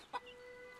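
A chicken in the video game Fable Anniversary, during a chicken kicking competition, gives a single quick cluck near the start, then only a faint steady background remains.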